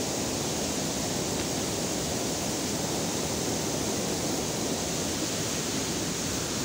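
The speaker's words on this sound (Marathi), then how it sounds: "हे सगळं पाणी." Rushing water pours over a waterfall in a steady, dense roar that stays close and loud throughout, with no voices over it.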